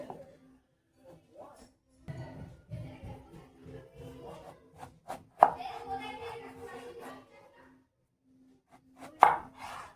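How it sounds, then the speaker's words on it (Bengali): Eggplant being cut into large pieces with a knife on a board, a series of dull irregular chops with a couple of sharp louder strikes, quiet overall with some talking mixed in. "বেগুনটা এখানে আমি একটু বড় বড় করে কেটে নেবো"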